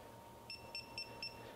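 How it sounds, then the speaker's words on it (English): An ACDelco ARM601-4 electronic torque wrench gives four short, evenly spaced high-pitched beeps, close and clear over a faint low hum as it nears its set torque. "that's when I start getting the audible beep and the red LEDs start lighting up"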